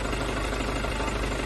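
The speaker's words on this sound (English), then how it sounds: "have the engine running a little bit to keep it warm because it's an old bird" An old van's engine idles steadily to stay warm, a dense low rumble with even mechanical chugging, close and constant throughout.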